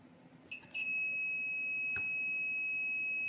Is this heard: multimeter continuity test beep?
yes